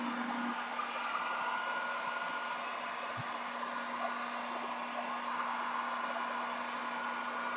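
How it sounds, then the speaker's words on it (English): Heat gun blowing hot air to dry paint, a steady loud whooshing roar that holds unbroken, with a constant low hum underneath. "I'm going to just give a bit of a blast of heat."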